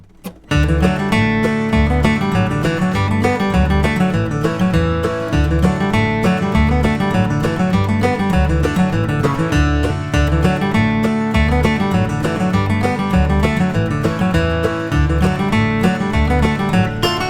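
Guitar plays the fiddle tune Whiskey Before Breakfast with a floating lick added at the end of the A part, a steady, busy stream of picked notes over bass runs, loud and alone without talk.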